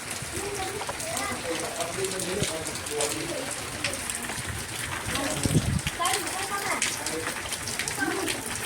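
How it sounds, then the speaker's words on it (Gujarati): Light rain beginning to fall outdoors on a windy evening during a Ganpati immersion outing, a steady broadband patter and wind rush running throughout, with voices talking in the background. "ફ્રેન્ડ્સ વરસાદ ચાલુ થઈ ગયો હે થોડો થોડો"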